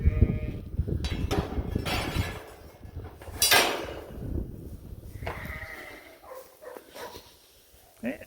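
Dorset sheep being moved in a group bleat repeatedly at close to moderate distance, mixed with shuffling and movement noise, while a person talks intermittently.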